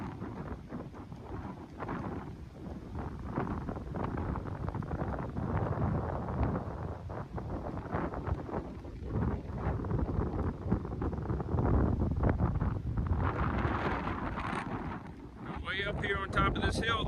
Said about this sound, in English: Up here on top of this hill, the wind is blowing pretty good.